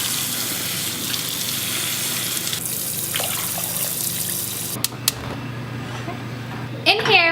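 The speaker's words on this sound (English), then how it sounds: "We'll give it a good rinse, and then we'll get it on the stove to boil." Quinoa rinsed under a running kitchen tap: a steady, close rush of water that fills the clip, with a few sharp clunks near the end.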